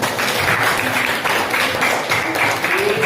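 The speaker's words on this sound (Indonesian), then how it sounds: "Kasih aplaus untuk kita semua dalam kegiatan." Applause from a class during a school civics lesson, steady dense clapping at full volume that continues for the whole short span.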